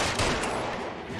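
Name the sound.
warning gunshots in video game LA Noire Remastered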